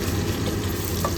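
Sliced white onions fry and get stirred in a pot for Malabar-style beef biriyani, giving a steady close sizzle with faint scraping, no voices.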